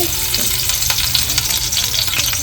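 A green chili and curry leaves hit hot tempering oil for a fish dish, crackling and sizzling loudly and close in one continuous burst, with no talking.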